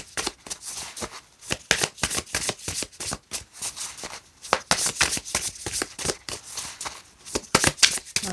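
A deck of cards is shuffled close up in repeated quick riffles, crisp rapid flutters arriving in bursts with short pauses between them.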